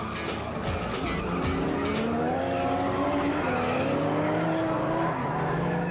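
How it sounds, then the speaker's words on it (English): Race cars start at Fuji Speedway with a Honda NSX Type R accelerating hard, engines rising in pitch through gears in a dense, loud pack of revving motors. "NSX Type R dashes off"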